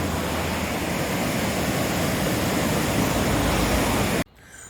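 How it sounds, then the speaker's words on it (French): Steady broadband rush of the Giers river flowing near Saint-Genis-sur-Giers, loud and continuous, cutting off abruptly near the end to a much quieter background. "Le Giers, c'est la rivière qui est là."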